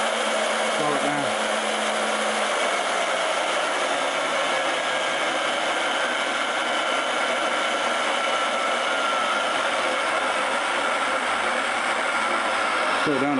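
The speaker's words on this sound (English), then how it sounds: "these old gear reduction drills are a little bit too slow" An old gear reduction drill runs steadily at low speed in a workshop, a continuous whirring motor hum with a gritty gear whine that holds for the whole stretch, close and fairly loud.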